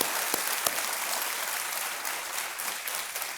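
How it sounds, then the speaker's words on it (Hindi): Studio audience on the KBC quiz show claps in a steady wash of applause, moderately loud and sustained, with a couple of sharper claps near the start. "एक बार फिर तालियों के साथ इनका स्वागत"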